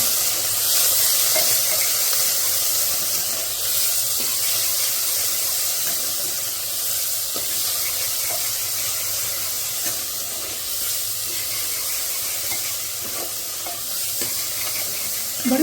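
Onions frying in a pan as they are stirred, giving a steady close sizzle with scraping stir sounds throughout and a louder clatter at the very end.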